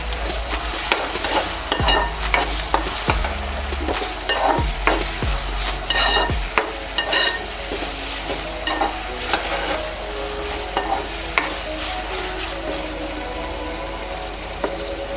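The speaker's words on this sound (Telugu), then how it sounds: "చిన్న స్లైసెస్ కింద కట్ చేసుకొని టమాటో వేసుకొని" Sliced tomatoes go into a hot pan for a raw mango fish curry, giving a steady sizzle of frying with a few sharp clatters of a stirring spoon against the pan early on.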